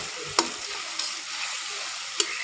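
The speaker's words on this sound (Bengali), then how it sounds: "এখন এতে আমি ঢেলে দিব ধুয়ে কেটে রাখা মাছগুলো" Washed, cut small mixed fish hit a hot pan with a steady sizzle, punctuated by a few sharp clinks and spatters as they settle and are stirred.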